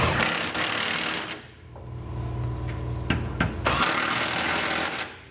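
A power tool runs in steady bursts while tightening Curt trailer hitch hardware on a 2020 GMC Sierra 1500, with a loud whir at the start, a quieter rhythmic stretch in the middle, then another strong burst before it stops.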